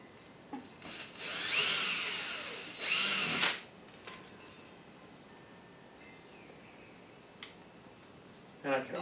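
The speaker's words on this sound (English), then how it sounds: "I'm also going to make a pilot hole" A power drill whirs in two short bursts, close by, making a pilot hole during a mini-split air conditioner installation, followed by quiet handling noises and a brief clatter at the end.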